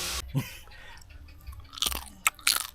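Crunchy grilled chicken being chewed up close, with wet mastication and a few sharp, crisp crunches toward the end, no talking.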